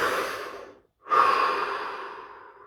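A slow deep breath: a long airy exhale, a brief pause, then a full hissing inhale that gradually fades, close and clear with no talking.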